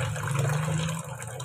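Water from a tap pours steadily into a washing machine tub, a continuous close gushing fill with a low resonant hum that drops slightly partway through.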